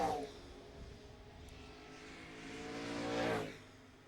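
NASCAR late model race cars circling Mesa Marin Raceway, engines droning at a distance before one car swells louder and roars past with a rising then falling pitch near the end.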